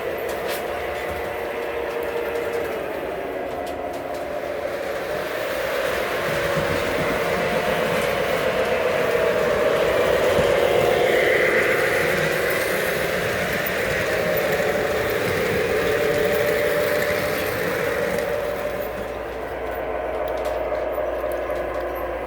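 A model train locomotive, an RS1 diesel, runs with a continuous rumbling engine drone and faint rail clatter, swelling slightly as it passes close by, then easing off, steady and fairly loud throughout with no talk.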